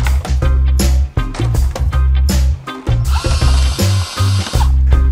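A power drill drives fasteners through a Palmex synthetic thatch ridge cap into roof joists, in repeated short whirring bursts with brief pauses, close and loud.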